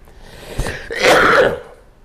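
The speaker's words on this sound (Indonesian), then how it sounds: "ini batuk karena tadi sudah ada pertemuan perkuliahan yang lain" One person gives a short throat-clearing cough followed by a longer, rougher cough, close and alone.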